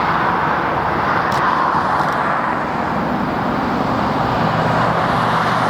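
Steady traffic at night as cars pass on a road, a continuous broadband wash of tyre and engine noise with no talk, holding level throughout.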